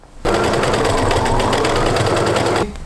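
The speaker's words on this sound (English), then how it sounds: "we're gonna fold this over, and then we'll sew again" Sewing machine stitching a folded hem on a camo bedsheet fabric, a loud, steady rapid mechanical whir that starts abruptly and runs for about two seconds before stopping.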